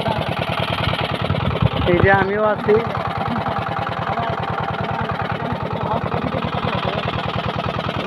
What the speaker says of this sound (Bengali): যে আমাদের ছোট নৌকা